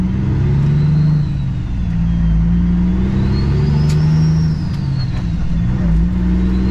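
A highway tractor truck's engine rumbles loud and close with a steady, uneven low throb and a faint rising whine, no talk.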